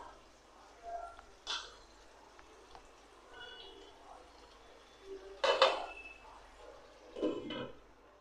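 A metal lid comes off a cooking pot of spiced masala during fish curry prep: a few sharp clanks and clinks of metal against metal over a quiet, faint background.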